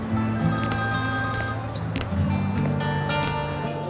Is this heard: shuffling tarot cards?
no